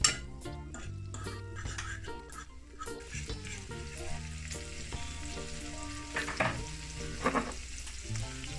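Minced garlic sizzles in about three tablespoons of olive oil in a pan, a steady frying hiss with occasional clinks and scrapes of a utensil against cookware, heard close with no talking.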